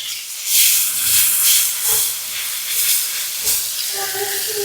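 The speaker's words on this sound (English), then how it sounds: "I love how the smell of onion when it's sauteing." Onions sauté in a pan with bursts of hissing sizzle that swell and fade, plus a few soft knocks, and no voices.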